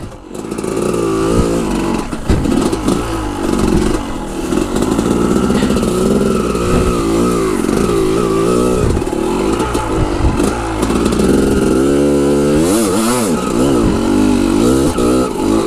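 Dirt or trail motorcycle engine running loud and close, revving up and down steadily throughout with rising and falling pitch, no sputtering, a rough mechanical clatter underneath.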